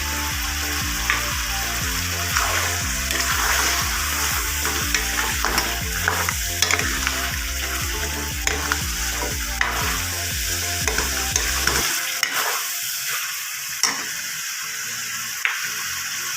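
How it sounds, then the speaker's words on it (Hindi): Garlic paste being stirred into mutton karahi as it fries, with a steady sizzle and repeated scraping strokes under a musical backing that drops away near the end, leaving the frying alone. "इसके बाद हमने लहसुन का पेस्ट इसमें मिक्स कर देना।"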